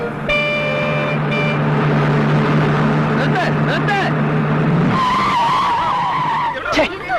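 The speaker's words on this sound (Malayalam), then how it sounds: "വണ്ടി ഇങ്ങനെ വലിയ ശബ്ദത്തോടെ ബ്രേക്ക് ഇടുന്നത് കാണാൻ നല്ല ശേല" A bus brakes hard with a loud, sustained tonal screech of brakes and tyres lasting several seconds, then a second shriller squeal, with voices mixed in.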